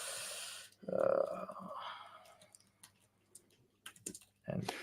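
Someone types on a computer keyboard in quiet, scattered clicks and short bursts, with a voice speaking over the first part.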